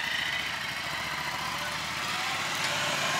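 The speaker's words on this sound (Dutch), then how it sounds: "hier staan ook twee hele mooie motoren, maar die gaan er nu net vandoor" Two motorcycles ride off, a steady, loud engine rumble close by that holds through the whole stretch with no talk.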